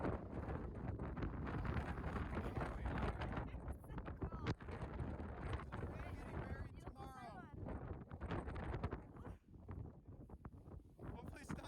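Strong Icelandic wind gusts buffet the microphone in a loud, uneven roar that rises and falls, with people talking faintly underneath.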